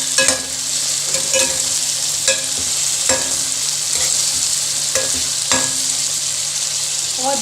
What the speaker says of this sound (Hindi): ये देखें फ्रेंड्स, हमारी भिंडी जो है वो फ्राई हो चुकी है।